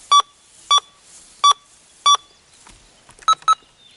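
A Minelab Go Find 60 metal detector beeps over a quarter buried about seven inches deep, giving four evenly spaced loud tones followed by two shorter, quicker beeps, with no talk over them.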